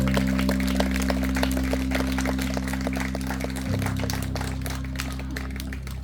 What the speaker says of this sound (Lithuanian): Plojimai, audringi dar kartelį